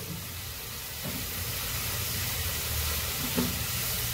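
Tomato and onion frying in oil for pav bhaji: a loud, steady, close sizzle fills the whole stretch, with a couple of faint stirring knocks and no voices.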